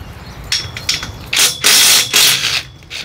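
Self-tapping number 8 screws are driven into a caterpillar tunnel greenhouse bow, short bursts of a power driver whirring and grinding between brief pauses, close and fairly loud.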